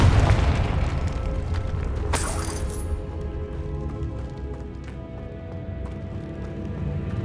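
A Confringo blasting spell in Hogwarts Legacy goes off as a booming explosion with a sharp burst, followed by a rumbling, decaying tail amid game ambience.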